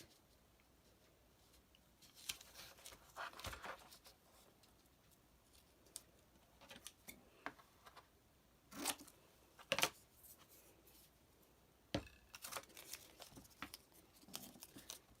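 Scissors snipping through material for a canvas art brick pattern, quiet and close, with scattered short crisp cuts and rustling handling between them.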